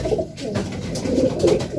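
Racing pigeons cooing inside a loft, with soft, throaty, overlapping coos close by, steady and fairly loud against faint background noise.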